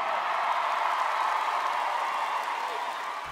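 An audience at the CMT Awards cheers and applauds a singer after his performance, a steady dense wash of clapping and crowd noise.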